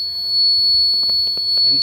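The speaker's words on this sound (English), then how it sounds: "and a buzzer indicator is on" Continuous high-pitched electronic buzzer on a flood-alert water level indicator project, sounding steadily and loudly, with faint clicks and handling noises underneath.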